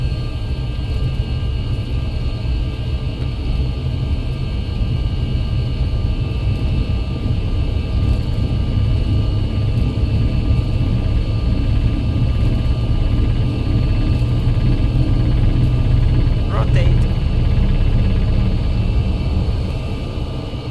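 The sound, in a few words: Airbus A320 jet engines at takeoff power, flight simulator game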